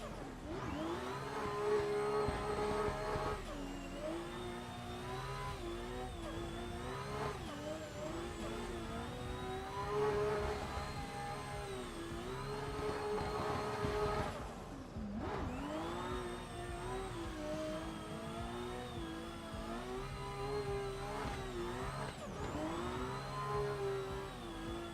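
Several racing car engines in a driving video game at the Okayama circuit, including a BMW, hum and whir steadily throughout with shifting pitch as revs rise and fall, fairly loud and continuous with a brief dip midway.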